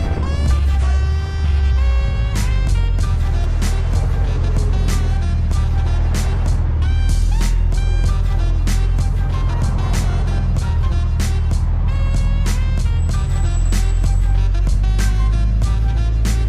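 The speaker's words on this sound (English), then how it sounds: "the cars drive by." Cars passing the Nurburgring gas station on a Car Freitag, a loud steady roar of engines and traffic that keeps going without a break, with no talk over it.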